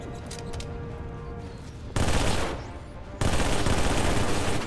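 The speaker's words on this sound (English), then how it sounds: "The M7 is compact def, featuring a high rate of fire, high recoil, and best of all can be dual wielded." Rapid, loud bursts of M7 SMG automatic fire from the video game Halo 3, with two dense bursts following lighter shots, heard up close.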